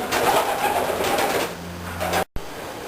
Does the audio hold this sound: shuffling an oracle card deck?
no